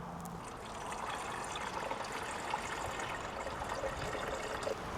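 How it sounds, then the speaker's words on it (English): Sugar water pours steadily into a beehive feeder in a continuous trickling stream, close by, with no talking over it. "Let's go ahead and top her off with some sugar water."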